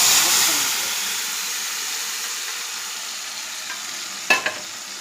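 A tempering (thalippu) of oil sizzles steadily in a pan as ingredients are sautéed, a broad hiss that fades slightly after the first second, with a brief clatter of stirring near the end.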